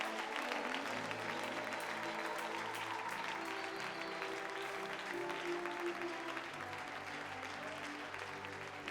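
A church congregation claps steadily through the close of a worship service, sustained dense applause with voices mixed in underneath, continuous and moderately loud throughout.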